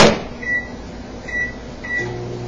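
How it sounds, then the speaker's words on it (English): A kitchen microwave oven is set to heat a mushroom wrap: three short electronic beeps from the keypad, then a steady low hum as the oven starts running, with no one talking. "Go ahead and put this in the microwave"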